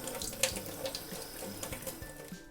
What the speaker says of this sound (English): And then you just rinse it off.